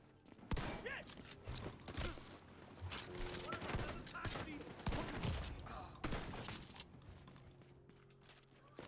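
Repeated shotgun blasts and other gunfire in the shooter video game Division 2, a dense volley of sharp bursts across several seconds at fairly low overall level, with some voice mixed in.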